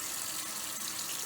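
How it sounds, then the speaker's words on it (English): Steady, rushing water being poured out of a bowl while rinsing homemade butter, a continuous hiss filling the whole short stretch with no voices. "So you dump the water out and then keep rinsing."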